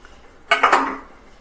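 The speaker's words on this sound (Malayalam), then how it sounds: "ഇനി നമുക്ക് ഓരോ തട്ടും ഇതിലേക്ക് ഇറക്കി വെക്കാം" Metal idli plates clank together once as they are lowered into a steamer of boiling water, a close, bright rattling clatter that rings briefly and fades.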